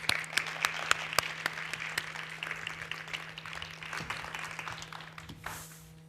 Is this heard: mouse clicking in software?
no